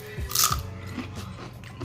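A sharp, close crunch as someone bites into crunchy fried corn tortilla chips made in cast iron, one loud crackling bite followed by a few softer chewing crunches, with no talking.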